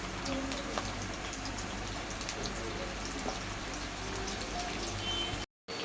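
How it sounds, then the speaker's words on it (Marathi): Chopped onions sizzling in a pan for egg biryani, a steady dense crackle with scattered pops throughout, no voices. "आपण कांदा गोल्डन रंगापर्यंत भाजून घेऊया."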